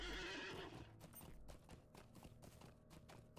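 A horse in a video game gallops with rapid rhythmic clip-clop hoofbeats after an opening whinny, steady and fairly close throughout.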